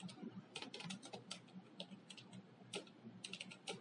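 Rapid clattering keystrokes on a computer keyboard during a computer studies lesson, a steady run of close taps with short pauses, no voices.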